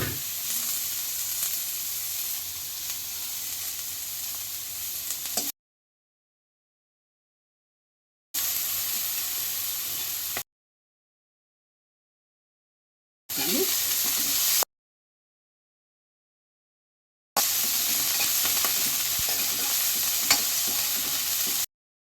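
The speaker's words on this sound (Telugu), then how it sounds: "అదే పల్లీలు మళ్ళీ వేసుకొని వేసుకోండి" Peanuts sizzle and fry in a hot pan, a steady hissing crackle heard in several separate bursts broken by complete silences, with occasional stirring scrapes and no talking.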